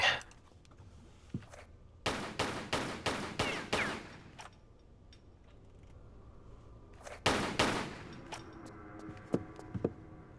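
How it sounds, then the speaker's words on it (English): Gunfire in the video game Tomb Raider 3 Remastered: a rapid burst of about six loud, evenly spaced shots, a pause, then a second short volley of two or three shots, with faint clicks and game sounds between. "Gunshot's pretty loud."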